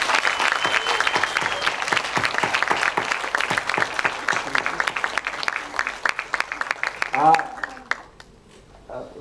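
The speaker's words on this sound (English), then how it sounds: "a final round of applause for all of you" Conference audience applauding at a closing session, dense steady clapping that thins out into scattered claps and fades near the end; a voice briefly speaks over it.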